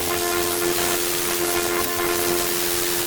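A dirt and noise generator in the Dawesome Myth VST synth drones continuously, a dense rushing noise layered with steady held tonal hums at a loud, even level throughout.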